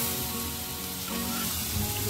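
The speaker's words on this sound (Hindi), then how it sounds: "देखिए अब इसको हम चारों तरफ से इसको हल्का हल्का फ्राई करेंगे" Beef seekh kebabs fry gently in a pan, giving a soft, steady sizzle that stays even and fairly quiet for the whole moment.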